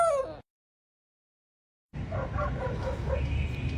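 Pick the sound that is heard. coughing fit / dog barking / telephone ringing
dog barking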